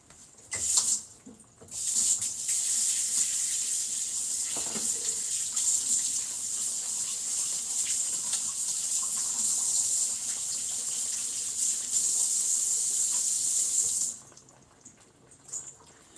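A kitchen tap is switched on and runs in a steady, close stream while something is washed beneath it, with faint splashes and handling sounds, then shuts off near the end; there is no speech.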